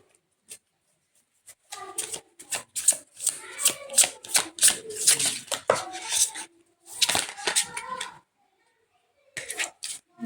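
Tarot cards are shuffled by hand close to the listener in bursts of crisp, papery riffling and slapping, with short pauses between them and a few brief quiet gaps.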